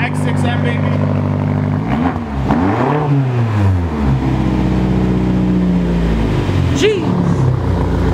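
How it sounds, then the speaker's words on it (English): A BMW X6 M's powerful engine revs hard through a loud custom exhaust, rising and falling in pitch over a steady rumble, close and continuous. "Custom exhaust. This is an X6M, baby."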